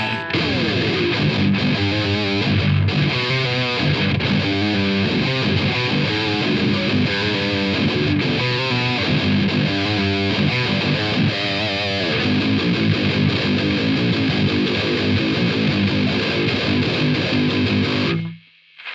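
A heavily distorted electric guitar in low tuning, played through a distortion pedal, plays low, chugging riffs and sustained chords, loud and saturated, then cuts off abruptly at the end.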